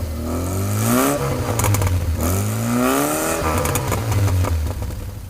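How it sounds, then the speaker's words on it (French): A car driving in snow, its engine revving again and again as it accelerates; the pitch repeatedly climbs and drops in loud, close surges, with faint clattering and no talking. "Mais Sandrine accélérait sans cesse, rendant le véhicule encore plus instable"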